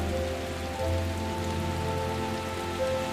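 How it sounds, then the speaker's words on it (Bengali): Steady rain falling, a continuous even hiss of drops on surfaces, with a faint constant hum beneath and no talking. "কি সুন্দর বৃষ্টি।"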